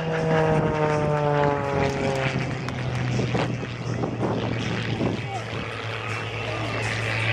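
A Zivko Edge 540 aerobatic propeller plane performing at an air show produces a loud, steady droning engine and propeller roar, with an announcer talking over it.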